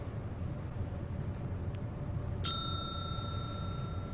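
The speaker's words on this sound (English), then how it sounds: "Ah, it went ping." A single bright bell ping in the point-and-click adventure game Secret Files 2, struck once midway and ringing out with a sustained, clear tone over a low background hum.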